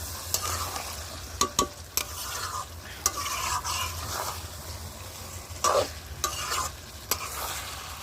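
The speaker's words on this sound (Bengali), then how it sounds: "মাংসটা কষিয়ে নিচ্ছি" Chicken meat is stir-fried for Bengali chicken kosha in a pan, a steady close sizzle broken by repeated sharp scrapes and clacks of a spatula stirring against the pan, with no talk.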